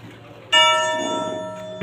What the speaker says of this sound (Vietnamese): Tiếng chuông thì đanh to.